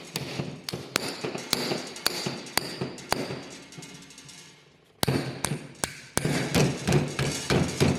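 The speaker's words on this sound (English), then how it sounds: "push down on the pin with something soft like this rubber mallet I use a lot" A rubber mallet taps a piston pin out of a Nissan R32 Skyline engine during a rebuild, giving a steady series of sharp, close knocks. The blows come about twice a second, with a brief pause near the middle.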